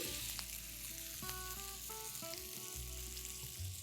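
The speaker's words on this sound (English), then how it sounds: "After it sizzles, let's get it out and place it on the base." A hot Italian sizzler platter hisses and spits loudly and close up after sauce is poured onto its rim, a dense steady sizzle under clattering tones with no speech.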